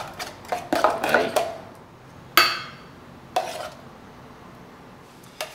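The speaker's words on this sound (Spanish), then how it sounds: "Lo podemos revolver." Homemade garlic aioli with parsley being stirred with a utensil in a bowl: a quick cluster of scraping clinks, then a few sharp, isolated knocks against the dish with pauses between.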